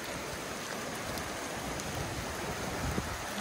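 Steady rain falls in a dense, continuous hiss, like drops pattering on leaves and ground nearby in a North Georgia state park, with no voices.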